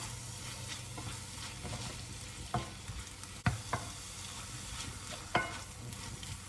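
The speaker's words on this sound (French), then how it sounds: "Les crevettes sont déjà cuites, hein, on va juste les mélanger à tout ça." Cooked shrimp being stirred into a sizzling mixture in a frying pan for keto shrimp turnovers, with a steady low frying hiss and a few sharp utensil scrapes and clacks against the pan, no talking.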